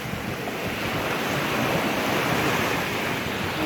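Waves breaking along a Black Sea beach, a steady close roar of surf and rushing water with wind buffeting the microphone, and no voices.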